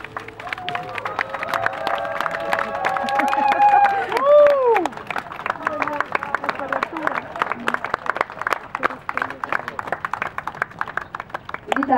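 Wedding guests clap for the groom, a dense patter of applause rising and swelling midway, then continuing as steady clapping while a host's voice and background chatter run over it.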